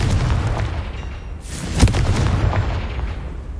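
Confringo fire spell blast in the video game Hogwarts Legacy, with one loud booming explosion over a rumbling game background.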